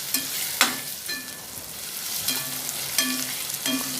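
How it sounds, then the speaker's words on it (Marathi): Chopped onion, tomato and green chili frying in hot oil for paneer bhurji, a continuous close sizzle with a few louder spoon strokes against the pan stirring the mix. "तो पण चांगला आपल्याला तेलात भाजून घ्यायचा आहे।"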